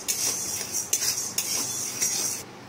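Red lentils (masoor dal) dry-roasted and stirred in a hot pan at home, giving a steady, close scraping and rattling of grains against metal with no talk. The sound stops abruptly near the end.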